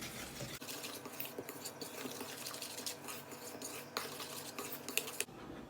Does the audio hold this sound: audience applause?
no